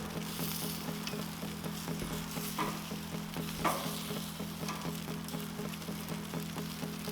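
Grippo's Bar-B-Q chicken wings sizzle on a Char-Broil Performance Series grill with a steady close crackle over a low, continuous hum, and a few brief louder pops stand out.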